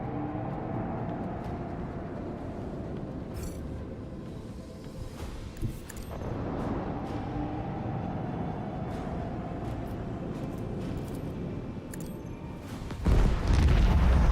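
Torpedo explosions in the Warhammer 40,000: Rogue Trader video game: a low, rumbling barrage of booms that rolls on continuously, with a sharper, heavier blast close to the end.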